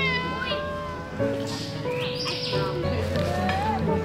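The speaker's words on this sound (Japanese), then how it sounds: "怎么这么多猫咪啊？" Several cats meow repeatedly at a glamping campsite in Kanchanaburi, Thailand, their cries close and clear over soft music and ambient noise, with bird chirps mixed in.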